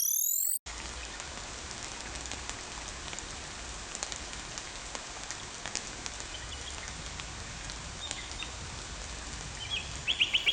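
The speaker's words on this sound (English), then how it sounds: "drizzling sound on a sunny day" AI-generated sound: steady light drizzle patters across a surface, with faint bird chirps here and there in the background.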